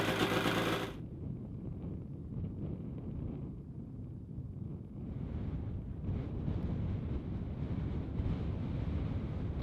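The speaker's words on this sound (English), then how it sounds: "It's super windy." Strong winter wind in Alaska buffets the microphone in a steady, loud low roar, gusting a little stronger toward the end, with no voices.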